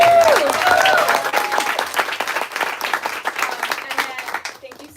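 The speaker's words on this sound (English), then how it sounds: "So another round of applause" Audience applause at a Serendipity celebration event, a dense wash of many hands clapping that starts loud and gradually thins toward the end, with voices murmuring underneath.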